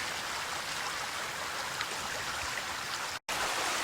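Steady flowing water in a creek beside old stone ruins of an iron furnace, a continuous broadband rush with no voices, briefly cutting out near the end.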